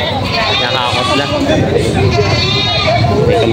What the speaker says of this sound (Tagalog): May kambing si kuya. Ibinibenta niya pa po.